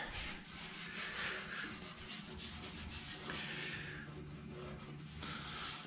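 Hand sanding orange primer on the body of a 1955 Chevy hardtop, a close, continuous rhythmic rubbing scrape in repeated back-and-forth strokes, with no talking.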